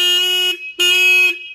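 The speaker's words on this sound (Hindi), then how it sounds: "तो गाइस अब आपको इसके हॉर्न दिखा देते हम कैसे हैं।" Two loud, steady electronic horn blasts from a Royal Enfield Classic 350 motorcycle, each about half a second long with a brief gap between, close by and alone.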